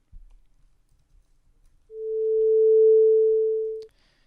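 A synthesized triangle wave sounds as a single steady pure tone that swells in softly, holds for about two seconds, then stops abruptly, with faint clicks before and after it.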